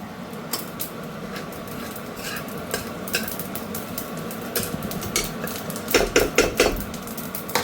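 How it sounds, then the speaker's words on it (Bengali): Whole cumin seeds and a pinch of asafoetida hit hot oil in a pan, giving a steady low sizzle broken by scattered metallic clinks and stirring taps, with a quick cluster of sharper knocks near the end. "তেলটা গরম হয়ে গেছে, এবার আমি এখানে 1 টিস্পুন জিরে দিয়ে দিলাম, গোটা জিরে ফোড়নে। আর তার সাথে অল্প একটু হিং দিয়ে দিলাম।"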